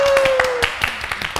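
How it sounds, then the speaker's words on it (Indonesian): Audience clapping greets a guest on an Indonesian talk show, a brief burst of hand claps with a voice talking over it. "Langsung kita berikan tepuk tangan untuk Cici Yeni"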